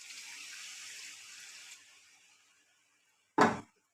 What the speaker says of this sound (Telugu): కొంచెం వాటర్ వేసుకొని